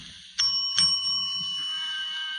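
A doorbell in an old-time radio detective drama rings twice in quick succession, bright metallic tones that linger and fade away, with no voices over them.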